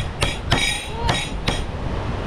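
A hammer cracks open a crab shell at a cheap seafood meal in Flores, Indonesia, with four sharp knocks spaced about half a second apart over a steady background hum.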